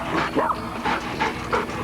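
A dog panting close by in quick, breathy rhythmic puffs, steady throughout with a soft hissy texture and no talking over it.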